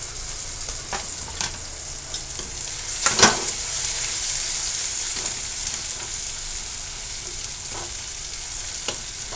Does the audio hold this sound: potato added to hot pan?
yes